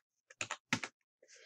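Short bursts of keystrokes on a computer keyboard while entering the ipconfig command, two quick clusters of clicks close to the mic followed by a softer, brief trailing rustle.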